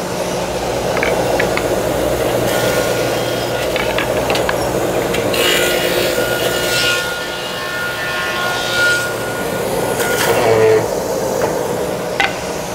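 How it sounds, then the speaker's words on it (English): A thickness planer roars steadily as it planes wooden box sides down toward half an inch thick, a loud droning machine whine with shifts in pitch and load as boards feed through. "start planing till you get down to a half an inch"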